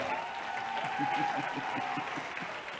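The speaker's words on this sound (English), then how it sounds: "Please give yourselves a round of applause" An audience applauds at an evening awards ceremony for young South Africans, steady crowd clapping filling the hall while a voice keeps speaking over it.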